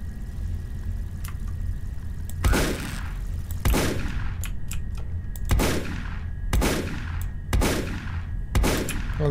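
Repeated bursts of gunfire from the video game Spirits of Xanadu, loud blasts roughly every second or so over a steady low engine-like hum, with no talking.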